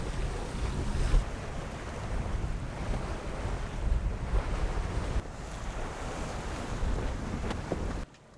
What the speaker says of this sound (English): the wind just picks up, the current starts ripping through